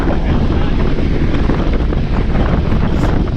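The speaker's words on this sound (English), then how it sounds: "You hear the wind." Steady, heavy wind buffeting the microphone during a group bicycle ride, a loud continuous roaring rumble that fills the whole clip.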